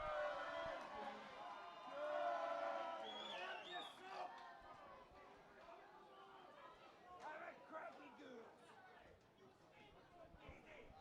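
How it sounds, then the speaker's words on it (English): A rugby union crowd chatters and cheers from the stands in a steady hum of babble that swells now and then. Nearer voices talk over the crowd. "Listen to the crowd."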